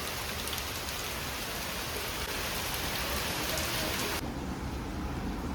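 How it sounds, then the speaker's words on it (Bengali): Heavy rain pours steadily as a dense, continuous hiss, loud and unbroken, with no voices. "এত বৃষ্টি হচ্ছে যে মানে বৃষ্টিটা এবার থামুক, ঝমঝমিয়ে বৃষ্টি"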